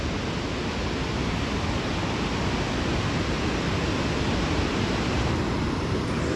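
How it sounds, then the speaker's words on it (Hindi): Dense, constant rushing water of the Malana River roars without pause from about 500 feet below, a broad steady wash of sound churning far below. "नीचे पानी की जो साउंड है ना, आप खुद सुनो एक बार,"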